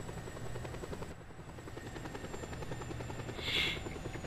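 Helicopter in the video game Just Cause 2, a steady pulsing rotor buzz with even rhythmic chop throughout, fairly faint and alone, with a brief brighter swell near the end.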